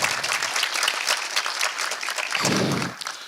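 Audience applause for the panelists at a space law conference: dense, steady clapping from a full room that runs through the whole stretch, with a slightly fuller swell near the end.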